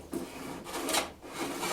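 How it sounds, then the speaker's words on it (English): A 2x4 butcher-block wooden workbench top being sanded by hand, with short rasping strokes rising and falling in an uneven rhythm. The scratching is close and fairly quiet, with no talk. "Then I'll probably give it a sand."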